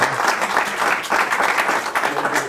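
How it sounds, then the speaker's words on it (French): An audience applauds a renowned climate scientist at a talk, a steady, fairly loud burst of clapping from many hands lasting a couple of seconds. "applaudissez-le"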